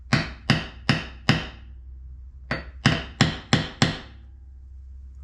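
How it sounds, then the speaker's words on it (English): A steel hammer strikes a center punch to mark a drill hole for a boat transom remote installation: four sharp, evenly spaced metallic taps, a pause, then five more, close and loud with short ringing decay. "I'm going to use a punch to kind of set where I want this hole to go"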